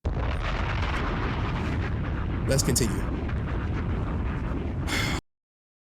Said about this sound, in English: that explosion sound effect way too long